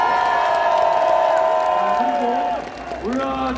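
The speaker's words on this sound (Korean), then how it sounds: "큰 함성과 뜨거운 박수 부탁드립니다." A large outdoor crowd at a political campaign rally in Gwangju's Kim Dae-jung Center plaza cheers and shouts together in a loud, sustained roar that sounds distant and spread out. It dips briefly near the end, and a voice is heard over it.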